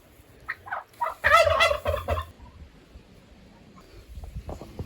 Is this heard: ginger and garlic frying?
no